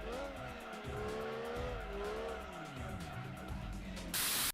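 Engine of a Mazda MX-5 in the Gran Turismo 2 racing game whines up and down through the gears with steady tire squeal under it, a sustained, fairly quiet synthetic drone ending in a sudden burst of noise.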